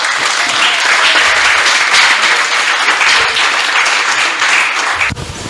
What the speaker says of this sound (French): Et je vais vous demander de l'applaudir